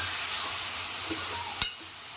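Tomato with salt is stirred in a hot pan for cabbage curry, giving a steady close sizzle and hiss with a single sharp scrape of the spoon near the end.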